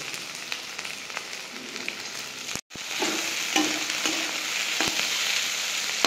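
Chopped onions, potatoes and cabbage fry and sizzle in a pan for sabudana poha, a loud, close, continuous sizzle broken by a brief silence and followed by scraping stirs.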